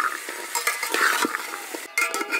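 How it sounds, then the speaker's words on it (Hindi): Mixed vegetables with peas and tomatoes stir-fried in a pot for dal khichdi: quick, repeated spoon scrapes and clinks against the metal over a bright sizzle, close up with no talk. "अब हम इसी में डाल के सभी चीज़ों को भूनेंगे।"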